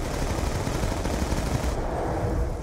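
Rapid gunshots from the Call of Duty Zombies map Origins, a fast, steady burst of fire that carries on loudly for a couple of seconds before it eases off.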